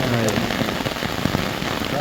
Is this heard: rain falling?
yes